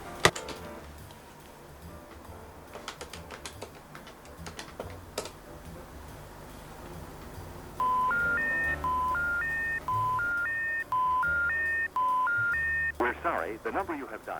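A phone number is tapped out on a telephone keypad, a run of short rising and falling beeps following earlier clicks and clatter, close and fairly loud with a faint voice underneath.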